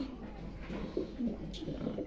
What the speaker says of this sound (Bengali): খুব ছটফট করে কবুতরগুলা দেখেন